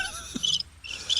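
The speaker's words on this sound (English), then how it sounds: "Crickets?" Crickets chirp in a quick, high trilling pattern that pauses briefly near the middle, with a faint low thump and no voices.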